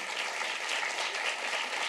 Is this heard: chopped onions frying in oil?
no